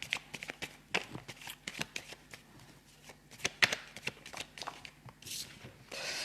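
Tarot cards being shuffled by hand up close, a quick irregular run of crisp riffles and slaps with brief gaps, continuing throughout at a moderate level.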